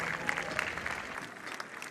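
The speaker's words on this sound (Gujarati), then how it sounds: "એકવાર તાળીઓના ગડગડાટથી એમને વધાવજો." Audience applause at a school Utsav function, a steady dense clapping from a crowd that runs unbroken and fairly loud through the short clip with no speech over it.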